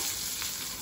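Curry leaves and green chillies frying in hot oil, a dense continuous hiss of close sizzling throughout a brief moment, fairly loud and steady.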